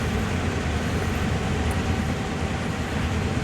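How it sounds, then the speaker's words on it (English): Train creeping slowly along in Train Sim World 4, giving a steady, dense low rumble of rolling wheels and motor that holds even and continuous with no breaks. "my train is just creeping along here"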